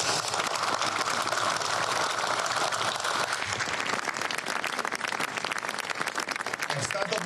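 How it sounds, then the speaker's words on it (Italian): An audience at an Italian commemorative event gives a long, even round of applause, a dense wash of clapping that stays steady throughout with some voices mixed in. "Antonella Aurelia e Dino Daniotti, ai quali chiedo davvero un grande applauso"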